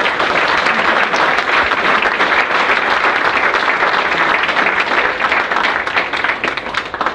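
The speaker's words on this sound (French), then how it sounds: "Merci de l'applaudir aussi." Dense, sustained applause from a crowd gathered at a municipal election results event, many hands clapping loudly and evenly before easing slightly at the close.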